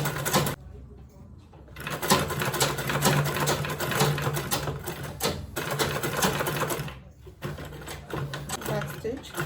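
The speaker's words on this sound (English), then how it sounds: "I'm going to back stitch first." Sewing machine back-stitching a fabric make-up bag with zipper and lining, running steadily in close, loud rattling bursts with two brief pauses, while a person talks over it.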